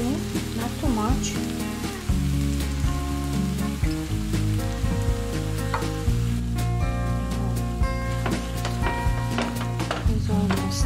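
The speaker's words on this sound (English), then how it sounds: "I'm gonna add the cream, the coconut cream, not too much." Coconut cream poured into a pan of sizzling eggplant and mushroom, a steady close frying hiss with crackles and spatter throughout, plus faint clinks of stirring; no talk.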